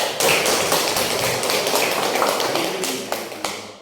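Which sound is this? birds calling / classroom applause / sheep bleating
classroom applause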